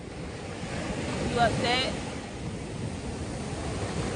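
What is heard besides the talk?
waves and wind at the beach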